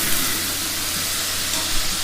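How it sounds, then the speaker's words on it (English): Continuous loud sizzling and hissing, like food searing on a hot grill, steady throughout with no voices. "That sizzle? That's the soundtrack of Chipotle."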